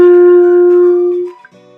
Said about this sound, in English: if I play with slow air instead of fast air, this is what my G sounds like